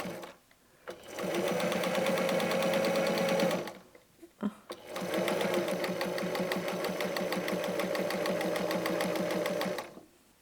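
A sewing machine stitches patchwork in two sustained runs, a steady rapid mechanical chatter close by, separated by a short pause, with no talking.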